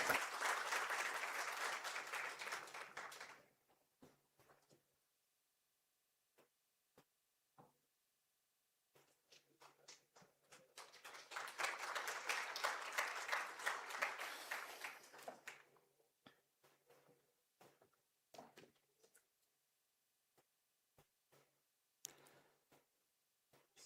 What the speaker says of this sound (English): A round of applause for my exceptional panel.